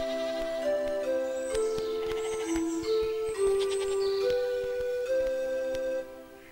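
Cartoon goats, herded by a young goatherd, give a run of close, wavering bleats, one after another, over a quiet background.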